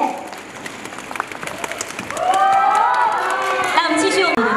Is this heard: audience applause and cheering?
yes